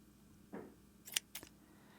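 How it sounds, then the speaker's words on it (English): Scissors snip crochet yarn, giving a few quick close clicks and a short sharp cut in a quiet room. "Now we can go ahead and cut our working yarn."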